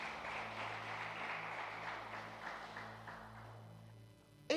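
A church congregation claps together in a steady wash of applause that slowly fades, with a low organ or keyboard chord sustained underneath.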